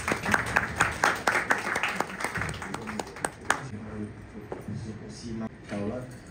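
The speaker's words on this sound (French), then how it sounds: "il faut l'applaudir." An audience applauds at a Grand Théâtre event in Senegal, a burst of clapping that fades after a few seconds into a speaking voice and murmuring room sound.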